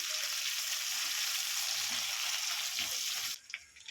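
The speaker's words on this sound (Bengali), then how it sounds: "গ্রেড করা আদা আর পেঁয়াজ এই লঙ্কা দিয়ে দেবো ভালো করে একটু ভেজে নেব" Grated ginger, onion and green chili fry in hot oil with five-spice seeds, a steady dense sizzle close by that cuts off near the end, leaving a few soft clinks and stirs.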